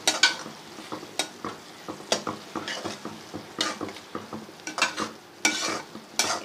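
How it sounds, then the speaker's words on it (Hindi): Spice masala with coriander powder fries in ghee for okra curry, a close, lively sizzle broken by repeated stirring scrapes of a spoon against the pan at an uneven pace, with no one speaking. "और अब हम इसको भून लेंगे अच्छा सा।"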